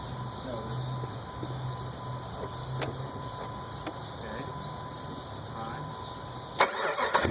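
A 2003 Jeep Grand Cherokee with a 4.7 engine cranks and catches near the end after a stretch of quiet garage hum and someone talking, the start coming in short and close.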